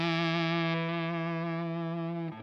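A guitar chord rings through a Boss and Solar Sound Tonebender TB2W fuzz pedal, loud, thick and sustained with a buzzy harmonic-rich tone, holding steady for about two seconds before cutting off.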